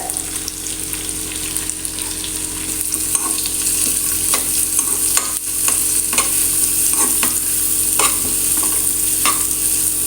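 Onions sautéing in a pan as filling for chapathi egg rolls, with a bright steady sizzle and regular scraping stirs of a spatula, close and loud throughout without any talking.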